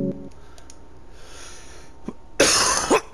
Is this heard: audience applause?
no